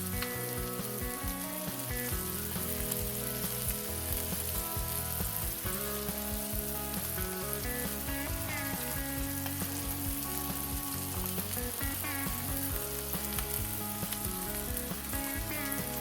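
Tilapia fillets seasoned with garlic powder and sweet paprika sizzle in a frying pan, a steady, close, continuous crackle that runs unbroken throughout with no talking.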